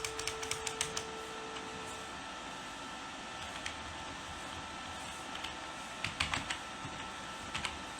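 Someone types HTML list code on a computer keyboard, producing clusters of light, close key clicks separated by pauses, over a steady faint background hiss.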